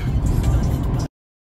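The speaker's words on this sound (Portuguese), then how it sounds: "Olha esse trânsito, galera!" Road traffic on the highway toward Ribeirão Preto, a dense, loud rumble of vehicles heard from inside a moving car, continuous for about a second before cutting off abruptly.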